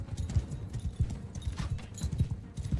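Horse hooves clip-clop steadily in Mount & Blade II: Bannerlord, a quick rhythmic trot of soft thuds heard fairly close, with faint battle clatter behind.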